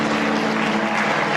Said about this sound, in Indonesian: Yang merasakan hadirat Tuhan kasih tepuk tangan yang meriah